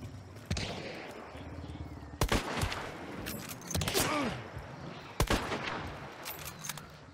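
Gunshots in Hunt: Showdown, a few loud isolated reports booming over steady ambient game noise, some with long echoing tails, spaced several seconds apart.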